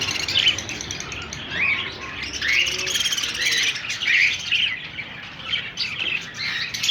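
Parrots call among other caged birds, shrill, repeated squawks and chirps at moderate distance over a steady low background, with no talk.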